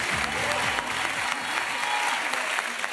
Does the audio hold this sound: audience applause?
yes